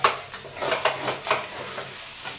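Paneer bhurji sautéed in a pan over a full gas flame, a loud steady sizzle broken by several quick stirring scrapes of a spoon against the pan.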